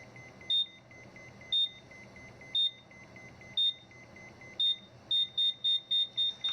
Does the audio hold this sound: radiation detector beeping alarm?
yes